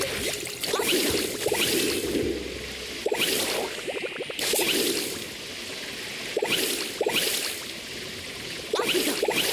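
Water splashes and whooshes in repeated surges while carving waves in Genshin Impact, each rush of spray rising and falling every second or two.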